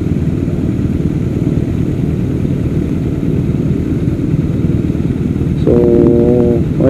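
Motorcycle engines run steadily at close range at a breakfast-ride gathering of riders in Clark and Angeles, Pampanga, with a brief harmonic tone rising over the rumble near the end.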